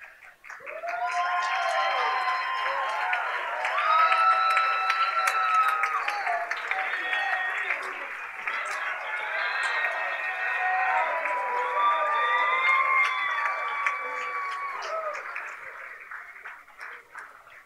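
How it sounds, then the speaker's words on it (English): Wedding guests applaud in a long, sustained round of clapping with some cheering, while music with sustained tones plays underneath at a steady level before the clapping tapers off. "you can keep those applause going"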